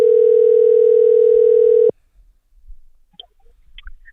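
A steady, loud telephone dial tone hums for about two seconds while a call is placed, then cuts off abruptly, leaving faint handling noise and soft clicks.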